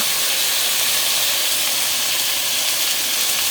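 Cumin paste and chopped chilli hit a hot pan for a rohu fish curry, giving a steady, loud, hissing sizzle that holds evenly throughout with no voices.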